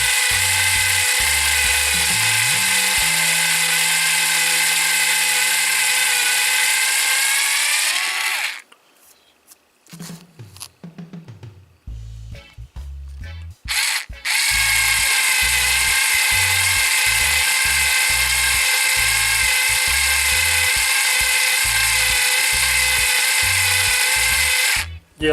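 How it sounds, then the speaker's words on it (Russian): A small electric drill bores holes in a watch dial, whining loudly and steadily, then stopping for several seconds of quiet handling and brief bursts before starting again and running continuously to the end. "Так, продолжаем сверлить."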